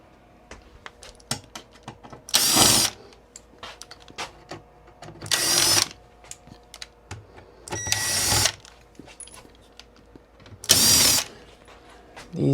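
Cordless power drill backing out the six screws that hold an RV air conditioner's ceiling plate, four loud whirring bursts evenly spaced between quieter clicks and handling noise.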